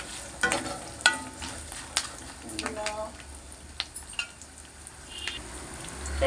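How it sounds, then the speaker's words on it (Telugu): Green chillies and curry leaves frying in a pan, a crackling sizzle with repeated clinking, scraping stirs of a utensil against the metal. "కలుపుతున్నాను ఫ్రెండ్స్."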